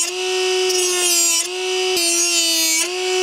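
Right angle die grinder with a small disc grinding a mower or grass-shear blade, a loud high-pitched steady whine with shifting grinding hiss as the disc bites and lifts, briefly dipping a few times, close up.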